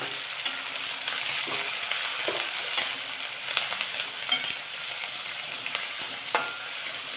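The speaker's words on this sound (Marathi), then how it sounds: "कांदा आपल्याला जळून द्यायचा नाहीये गॅसची आत आपण मध्यमच ठेवायची" Finely chopped onion sautés with cumin in a pan over medium heat, giving a continuous close sizzle with scattered soft stirring clicks and pops throughout, with no voices.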